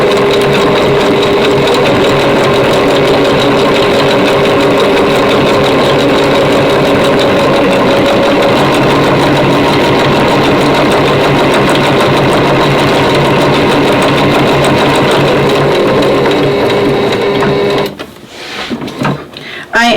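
Sewing machine running steadily while stitching a quilted red, white and blue placemat close to the edge, a continuous loud mechanical hum with talk over it, stopping near the end.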